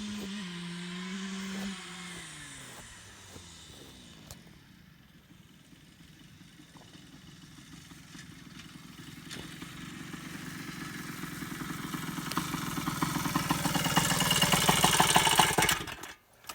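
A 1979 Suzuki RM 125 two-stroke motorcycle engine idles and revs, then builds steadily louder as the bike rides off and returns, ending with a cut.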